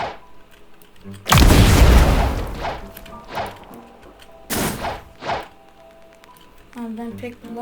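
In Roblox Blox Fruits, two loud explosions from a bomb and rocket burst out a few seconds apart, each a heavy crashing blast with a fading tail, followed by smaller thuds and impacts while a voice talks.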